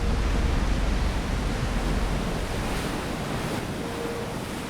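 Waves surge and roar across the open sea under steady wind, a dense, continuous wash of surf with no voices.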